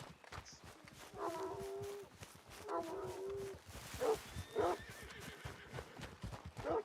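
A dog in the open-world western video game Red Dead Redemption 2 gives two drawn-out, wavering whimpers, followed by several short yelps and animal noises, with game ambience between them.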